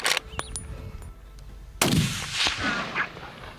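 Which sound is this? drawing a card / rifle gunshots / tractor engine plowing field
rifle gunshots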